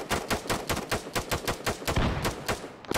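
Rapid gunfire in the military shooter Arma 3 rattles in fast, loud bursts, a steady stream of sharp shots close by with only brief gaps.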